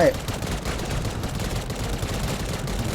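Rapid automatic gunfire from the mobile shooter N.O.V.A. Legacy rattles continuously and evenly at close range, a steady dense stream of shots with game sounds behind.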